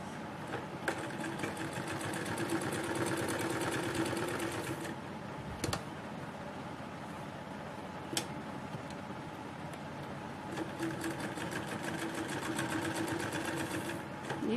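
A sewing machine stitches a fancy frilled sleeve in a long, steady run of fast, even needle chatter, close up and soft, broken by a few sharp clicks.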